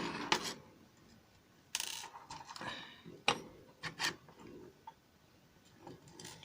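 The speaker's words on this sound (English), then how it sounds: "I'll put some screws in it." Small screws driven into the case of a QRP Labs QDX transceiver kit: scattered faint clicks, rasps and ticks of metal parts and a screwdriver at close range, quiet and irregular with no voices.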